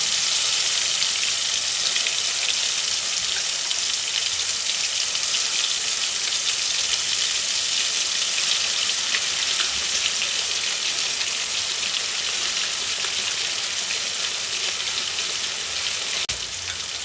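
Ground spices sizzling and crackling in hot oil after cumin seeds, a steady loud frying hiss that holds throughout with no talk.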